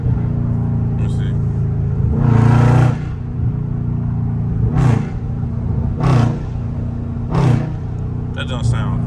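A loud Dodge Scat Pack engine rumbles in traffic with several surging revs under light throttle, close and heavy, while someone talks over it.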